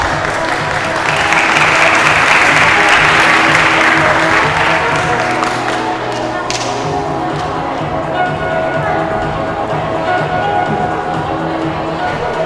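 At a school competition final at Vajiravudh College during a trophy and cash prize presentation, an audience applauds loudly in a broad wash of clapping, which fades into a lower steady crowd murmur with background music tones.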